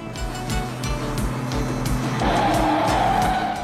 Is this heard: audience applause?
no